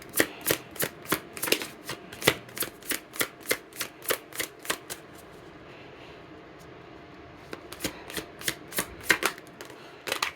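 A deck of tarot cards is shuffled in two bursts of rapid, close riffling flicks, with a steady rhythmic patter, a quieter gap in the middle, and no talking.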